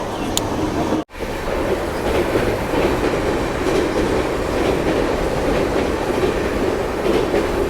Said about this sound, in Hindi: बाकी इस ओर से निकल रही है पटना से धनबाद जाने वाली इंटरसिटी एक्सप्रेस क्रॉस कर रही है।